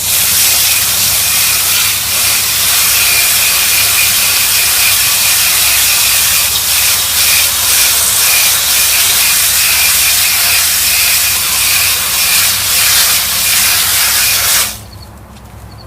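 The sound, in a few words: water spray rinsing mini split outdoor coil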